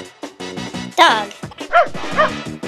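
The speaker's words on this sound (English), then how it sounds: "Dog." A dog barks and yips several times in quick, uneven bursts, loud and close, with no one speaking.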